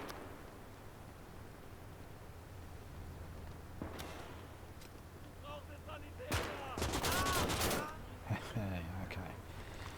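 Gunfire in the World War II strategy video game Gates of Hell: scattered distant shots build to a louder cluster of close bursts midway, over a low battlefield rumble.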